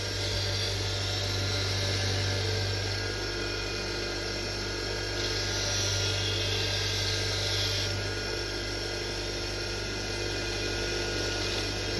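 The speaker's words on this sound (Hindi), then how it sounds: "ग्राइंडर पे साफ़ करने से इसका जंग ख़त्म हो जाएगा" Angle grinder whines continuously while removing rust from a motorcycle footrest, a loud steady high-pitched grinding drone with slight shifts in pitch as pressure changes, no talking.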